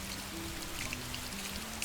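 Steady rain falls on a dark, rainy night in the video game Soulitaire, a soft continuous patter with scattered droplets over a faint low hum, with no speech.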